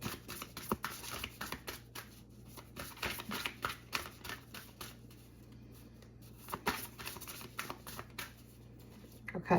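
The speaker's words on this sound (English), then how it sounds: "Let's shuffle through one more time." A tarot card deck is shuffled at close range in quiet, soft riffling and tapping bursts repeating irregularly throughout.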